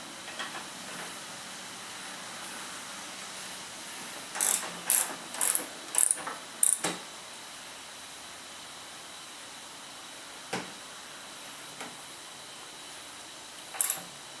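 A ratchet with a 9/16 socket tightens bolts on an Ariens 926LE snowblower during a dual-belt kit install: a quick burst of five or six sharp ratcheting clicks, then a few isolated single clicks over a steady background hiss.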